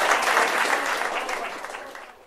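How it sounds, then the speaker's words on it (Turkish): A canned applause effect from a computer sound-disc game swells briefly, a dense wash of clapping that stays steady and then fades out over two seconds. "Bakın alkış sesleri artıyor."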